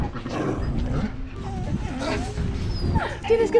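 A dog whimpering and yipping in an animated children's story, high plaintive whines rising and falling close up over excited voices talking in Spanish.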